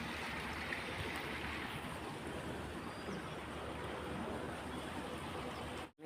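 Irrigation water pours steadily from a motor pump into a farm field, a continuous rushing, gurgling flow that runs unbroken and fairly close before cutting off abruptly at the end.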